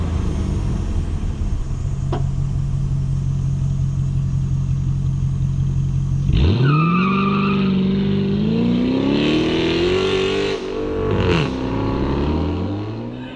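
A Chrysler 300 SRT8 with its mufflers cut off idles with a deep, loud rumble, then roars hard as it accelerates away, the straight-piped exhaust rising and shifting through gears for several seconds.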